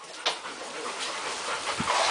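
A female dog on a farm pants rapidly up close, with a few soft whimpers mixed into the breathing.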